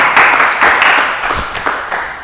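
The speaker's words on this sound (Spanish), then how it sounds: "Un aplauso" Audience applause at a church service, a short burst of loud, dense clapping that rises quickly and then tapers off over about two seconds.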